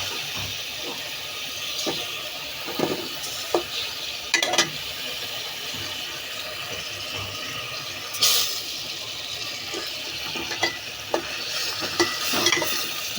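Fish pieces with ginger and garlic paste sizzling steadily in a pan, with repeated scraping stirs and a few sharper clatters of the spoon against the metal, close and continuous, with no talking.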